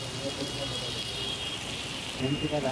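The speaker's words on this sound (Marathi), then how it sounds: "हा बघा पाऊस किती आलाय जोराचा, खूप जोरात पाऊस आहे" Heavy rain pours down steadily in a dense, close wash of noise, with a voice talking over it.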